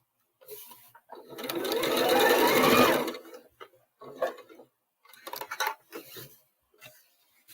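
A sewing machine stitches a drawstring bag in a loud, fast whirring run of about two seconds, then several short bursts of stitching with quiet pauses between.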